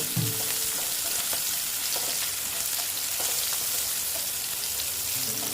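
Chopped onions fry steadily in hot oil in a pan for a Bengali rui fish mustard-poppy dish, making a continuous dense sizzle with a few light stirring scrapes, close and even throughout.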